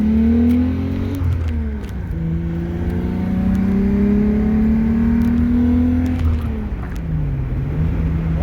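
A car engine revs steadily, its pitch climbing through a long sustained pull, then dropping and rising again near the end, loud and close.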